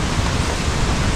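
Strong wind and heavy rain from a super typhoon making landfall in Batangas roar as a dense, steady broadband rush, loud and unbroken with no voices.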